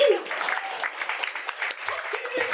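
Comedy-club crowd applauding the sound engineer during a live improv show, a brief burst of clapping mixed with voices and laughter.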